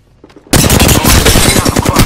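Rapid automatic gunfire from Apex Legends erupts suddenly after a quiet moment, then continues as a loud, dense stream of shots close by.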